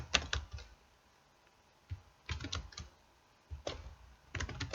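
Computer keyboard keys, the arrow keys, tapped in short clustered bursts with pauses between, close and fairly quiet, during presentation-software work.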